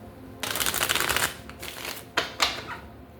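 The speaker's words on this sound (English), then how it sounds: "We're going to shuffle, and then we're going to lay the tarot" Close riffle of tarot cards being shuffled, one long burst followed by two short snaps, with no talking.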